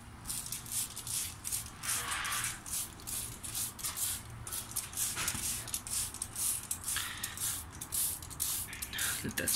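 Cleaner is sprayed in quick repeated hissing bursts onto a Ford/Mazda F2 engine in a farm truck. The spray is faint and close, with soft handling noises between the bursts.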